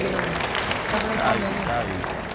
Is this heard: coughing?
no